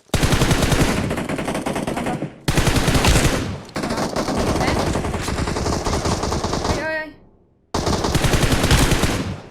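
Rapid automatic gunfire in the mobile battle royale game PUBG Mobile, loud and dense bursts filling most of the clip, broken by short gaps and a brief near-silent pause before firing resumes.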